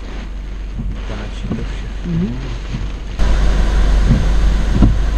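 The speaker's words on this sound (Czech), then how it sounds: "Už to nevidím, ale vítr pěkný." Strong storm wind roars and buffets a nearby microphone during a supercell thunderstorm in Germany, a steady rushing noise that surges louder partway through, with people talking briefly over it.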